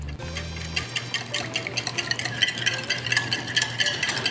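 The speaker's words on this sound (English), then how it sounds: "And then just gonna whisk this together." Salad dressing with thyme, pepper, salt and mayonnaise being whisked in a bowl, a steady rapid scraping and ticking of the whisk running the whole time, close and fairly quiet, with a low hum underneath.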